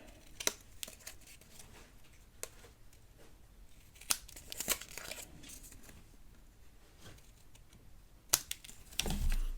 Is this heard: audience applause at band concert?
no